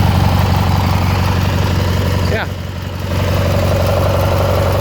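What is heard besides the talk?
Dixon ZTR Ram 44 zero turn mower engine running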